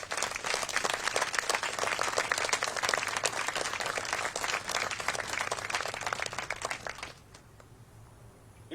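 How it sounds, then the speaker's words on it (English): An audience at a 2019 Military Police regimental retreat ceremony breaks into sustained, dense applause that runs steadily for about seven seconds, then quickly dies away to near silence. "let's all thank them with a round of applause"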